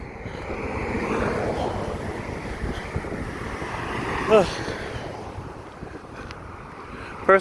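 A strong breeze gusting by the water in Hilo, Hawaii, buffeting the microphone with a low roaring rush, with waves in the background and a couple of short sharp bumps.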